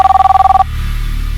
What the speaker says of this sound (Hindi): कदम सर, आपका फोन है।